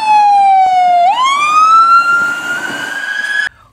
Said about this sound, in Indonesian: Wow, ambulans pemadam kebakaran.